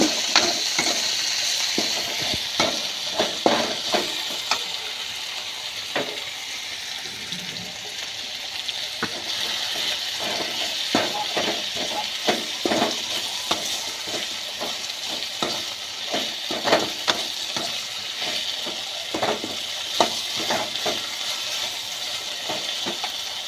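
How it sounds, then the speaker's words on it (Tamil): Raw banana stir-fry sizzles in a pan while a spoon stirs and scrapes it, a steady frying hiss broken by frequent clinking, scraping strokes, close and without talk. "ஒரு கையில் செல்லு ஒரு கையில் தான் கிளறிட்டேன் அதனால தான் வடச்சட்டி நவர்ற மாதிரியே இருக்குது"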